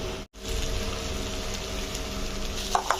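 Onion and tomato sautéing together in a pan for a mushroom gravy, a steady close sizzle and frying hiss that continues evenly after a brief cut near the start, with no talking.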